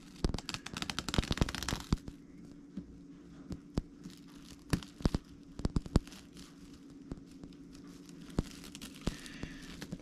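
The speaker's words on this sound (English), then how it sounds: "this should just peel right off" Dried coating peeling away from a grouse tail fan, heard as a rapid run of sharp crackles and tearing snaps up close, loudest at the start and then sporadic crisp pops and rustles throughout.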